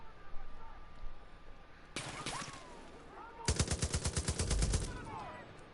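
Long-range gun firing in Far Cry 5's arcade time trial, a single shot followed by a rapid burst of repeated loud shots, close and dry with no talk over them.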